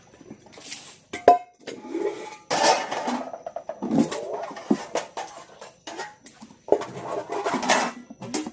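Dishes being washed with running water splashing, clattering pots and clinking utensils in irregular bursts, close and moderately loud, no talk.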